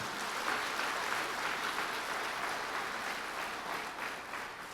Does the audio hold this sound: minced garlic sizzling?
no